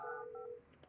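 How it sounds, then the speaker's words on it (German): A telephone in the building-management game Project Highrise gives a short electronic tonal ring of a few steady pitched beeps, clean and close and heard alone before it cuts off. "Oh, da unten. Telefon."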